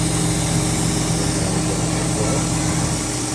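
Home shop CNC mill accelerating while cutting its first program: a dense, steady machining roar with a constant low hum and broadband cutting noise, loud and close, without talk.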